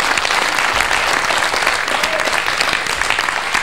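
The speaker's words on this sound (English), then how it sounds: "Let's have a round of applause for Marianne" A game show studio audience applauds loudly for a contestant, a dense and steady burst of clapping that runs for a few seconds without any talk.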